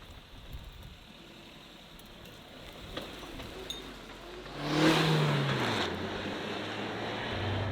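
A 2023 Suzuki Jimny Lite's 1.5 litre naturally aspirated petrol engine drones steadily under broad road and wind noise, swelling midway as it pulls harder, with a low rising engine tone.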